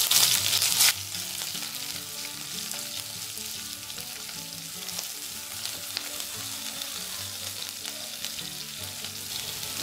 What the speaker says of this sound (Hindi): हरी मिर्च को चलाते हुए भून लेंगे।